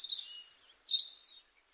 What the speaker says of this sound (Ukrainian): От пташки розспівалися там.